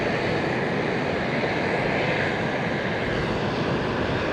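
A Hong Kong Express low-cost airliner on an airport taxiway produces a steady, loud broadband jet engine roar with no break, filling the scene without voices.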